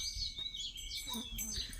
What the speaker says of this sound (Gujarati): ચકલા બોલતા હે બહુ જ